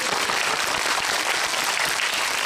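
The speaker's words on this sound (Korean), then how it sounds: "네, 박수 부탁드립니다" Cinema audience at a film screening event applauding, dense continuous clapping from a large crowd, loud and steady with no pauses.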